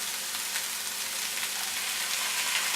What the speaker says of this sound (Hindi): इसको मज़ीद 2 मिनट फ्राई करेंगे।